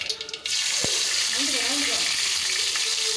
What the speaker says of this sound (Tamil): கடுகு போட்டு நல்லா பொரியட்டும்.